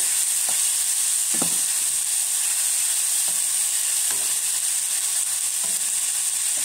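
Pork sautés in a pan with vegetables, sizzling in a steady, close hiss broken by a few soft stirring scrapes and clatters.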